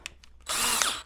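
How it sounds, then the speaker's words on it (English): Wire brush spinning in a power drill against a concrete garage floor being scuffed for a threshold seal, a few faint taps and then a sudden loud, harsh whirring grind lasting about half a second, close by. "in the drill, and now we will scuff up the floor some."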